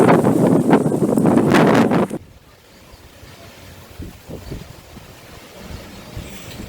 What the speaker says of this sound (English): the wind has picked up with intermittent gusts and the occasional rain squall